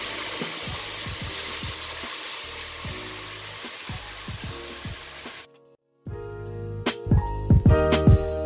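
Broccoli sizzles loudly in a hot pan over high heat, then after a brief hush orange sauce hits the pan with a fresh burst of crackling, bubbling frying and clinking stirring.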